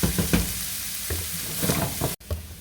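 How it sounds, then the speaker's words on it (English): Vegetables sautéing in a pan for a leftover roast beef stroganoff, a close steady sizzle with a few knocks and stirs and a brief cut near the end, no speech. "Get these sauteed up."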